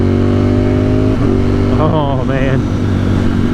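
A 2021 Ducati Streetfighter V4 motorcycle engine runs loud and close with a steady idle hum, then makes a couple of quick throttle blips that rise and fall, while someone speaks over it.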